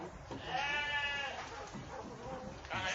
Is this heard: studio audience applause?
no